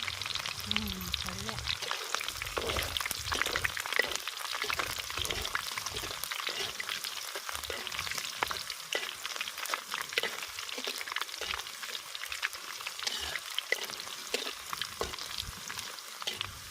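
Onions and garlic frying in a pan for a Telugu home-style curry, a steady close sizzle with occasional stirring clatter running throughout.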